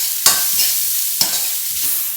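Ginger and onions sweating in a pan for lumpia filling, a loud, close, continuous sizzle with two sharp stirring scrapes and softer shuffles between them, no talk.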